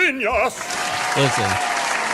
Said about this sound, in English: Hit the round of applause button.